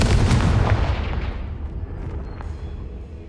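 Confringo fire-spell blast in the video game Hogwarts Legacy, a loud booming explosion at the start that rolls off into a fading, rumbling decay, with no talking over it.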